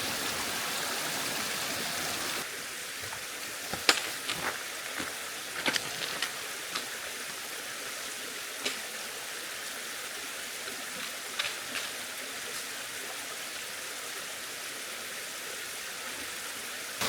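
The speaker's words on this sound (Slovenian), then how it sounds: "Seveda v Trebuši brez slapov ne gre." A stream and waterfalls in the Trebuša valley make a constant broadband rush, steady and moderately close, with occasional sharp clicks and knocks scattered on top.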